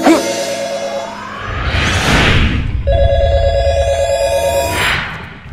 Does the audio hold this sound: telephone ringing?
yes